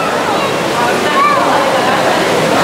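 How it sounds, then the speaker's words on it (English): Water flowing through Meramec Caverns, a show cave, a steady broadband rush like a small cascade running continuously and fairly loud, with a faint voice briefly audible over it. "there you can see the water that they waded through to get out of these caves, Jessie and Frank."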